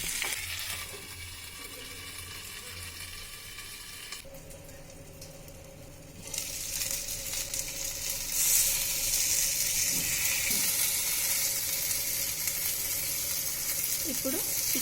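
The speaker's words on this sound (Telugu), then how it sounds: "ఇప్పుడు మధ్య మధ్యలో మూత ఓపెన్ చేసి కొద్దిగా ఆయిల్ని యాడ్ చేసుకుంటూ మళ్ళీ మూత పెట్టి చికెన్ సాఫ్ట్ అయ్యే వరకు కుక్ చేసుకోవాలి." Chicken cooks in oil in a covered pan with a hiss that stays faint under a low hum at first, then grows louder and crackles after the lid comes off midway.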